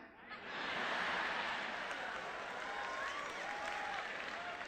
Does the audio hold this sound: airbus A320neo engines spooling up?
no